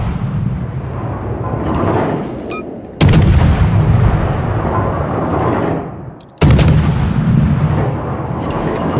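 Warship main guns firing in World of Warships, two huge booming salvos that cut in abruptly and roll on with long rumbling decay over a constant low battle drone, loud and close.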